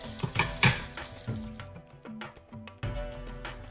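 Peanut oil and a little butter sizzle and crackle in a pan as whole spices (cinnamon, peppercorns, cardamom, chillies, star anise) fry, with a few stirring scrapes and clinks up close.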